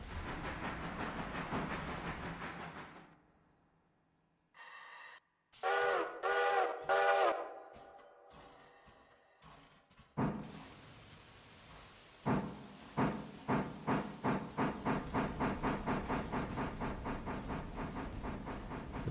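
A freight train rolls through a rail yard in the Railroader video game: tonal whistle-like blasts, then a steady, quickening run of rhythmic wheel clacks over the rails, fairly loud with no talking.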